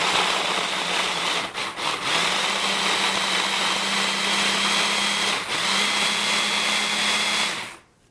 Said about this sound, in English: I love this immersion blender with the attachment